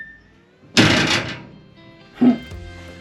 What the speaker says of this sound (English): Now this door's noisy when you shut it.